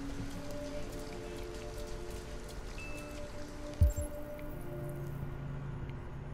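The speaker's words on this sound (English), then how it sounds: "I can stop the rain with my brain." Steady rain falls in the game Detroit: Become Human, a dense, even hiss of drops on hard surfaces running throughout, with one brief thump near the middle and a faint low hum beneath.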